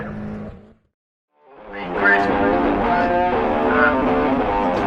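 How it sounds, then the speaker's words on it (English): Race cars passing at Croft Circuit: one car's engine fades away, then after a brief silence another engine rises to a loud, sustained roar as it goes by close up. "Let's see some cars go by."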